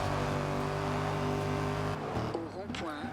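Toyota Supra engine in the racing game Forza Horizon 2, a steady droning hum held for about two seconds, then easing off and fading under a speaking voice.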